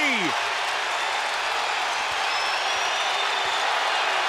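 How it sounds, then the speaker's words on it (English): A basketball arena crowd at a Texas Tech game roars steadily in cheering and applause, a continuous wash of noise with a few short whistles. "listen to the crowd"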